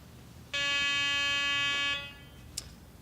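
A Garrett PD6500i walk-through metal detector sounds its alarm on a hacksaw blade, one steady buzzing electronic tone lasting about a second and a half, loud and clear, then a faint click.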